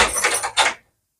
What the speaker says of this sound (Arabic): والله المفتاح في الباب.